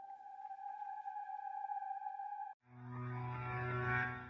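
A synth texture from the Atom in Contact plugin used like a riser: a steady pair of clean sustained tones, then a sudden switch to a dense, swelling, harmonically rich pad that grows slightly louder.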